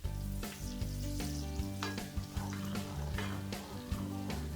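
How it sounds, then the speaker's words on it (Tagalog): Butter sizzles steadily in a hot pan for garlic butter prawns, a close, continuous crackling hiss broken by a few soft clinks and stirring sounds, with no talking. "kuha tayo ng konting butter at ilagay natin sa mainit na pan"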